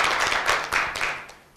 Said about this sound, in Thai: ขอเสียงปรบมือให้ครั้งค่ะ